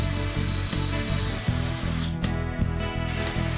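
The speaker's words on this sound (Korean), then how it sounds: "최종적으로는 12mm 로타리 해머를 이용해서 구멍을 최종적으로 뚫어줍니다" A 12mm rotary hammer drilling through wall tile in a bathroom: a steady, close, loud mechanical grinding drone with a rapid hammering pulse, running without pause and with no talk.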